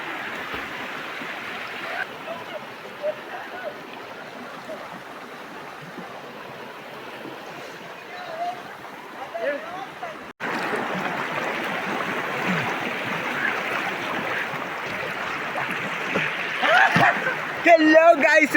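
Friends bathe and splash in a village stream at a bathing spot, with water rushing and splashing steadily throughout and growing louder in the second half, while people talk over it.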